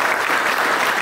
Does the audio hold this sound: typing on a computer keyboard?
no